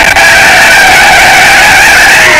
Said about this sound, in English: And look at how well this car drifts.